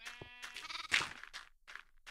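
Sheep in a farming video game bleat several times in a row, nasal wavering calls that overlap at moderate volume with brief gaps between them, with no talking.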